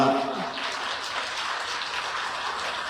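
Audience applause at an International Yoga Day event in Vijayawada: steady dense clapping filling the whole stretch, with a voice talking briefly at the start.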